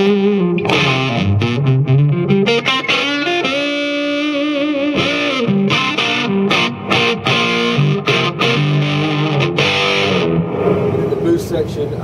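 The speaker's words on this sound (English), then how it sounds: "And then yeah, you've got reverb on here." An electric guitar plays through a Marshall AFD100 amp with reverb switched on, giving a distorted, saturated tone. A loud run of sustained notes and bends carries on without pause, and the reverb tail lingers.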